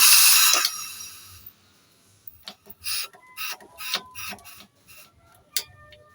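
A small cotton candy machine starts up with a burst of hissing noise, then settles into irregular mechanical ticks, clicks and whirring at close range.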